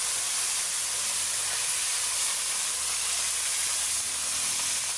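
Fish frying in hot oil gives a loud, steady sizzle, a dense crackling hiss that runs unbroken from start to end with no voices.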